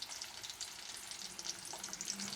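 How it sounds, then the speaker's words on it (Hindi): Chilli and garlic fry in a pan at home, giving a steady, close, continuous sizzle and crackle with no talking. "अभी इसको मैं करूँगा थोड़ा सा फ्राई"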